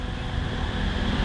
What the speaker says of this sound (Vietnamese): Sau đó chúng ta bật công tắc và giật nổ máy.